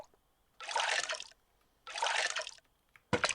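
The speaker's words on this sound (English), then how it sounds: "You can hear the sound of the wide open ocean" Ocean water in the Snow Queen video game: two sustained washing swells of about a second each, loud and close, then a short splashy burst at the end, with no voices.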